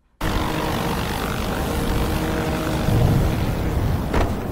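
A drone flies overhead in a Skibidi Toilet animation battle scene, a loud steady propeller-like engine drone that holds throughout and swells slightly near the end, with no talking.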